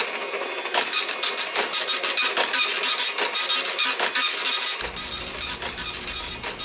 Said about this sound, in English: If you were printing something in a dot matrix printer, you required ear protection.